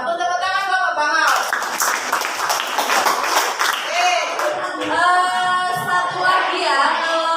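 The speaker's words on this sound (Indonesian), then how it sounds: "sudah bantu tepuk tangan Bapak Bangau" A classroom group claps briefly in the middle, a short burst of hands between stretches of someone speaking, with talk resuming over the tail of the clapping.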